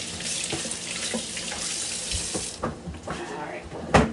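Lettuce and other vegetables for Thai chicken lettuce wraps are rinsed under a running kitchen tap, a steady close splashing hiss with small shifts as the produce is moved through the stream, ending in a brief clatter.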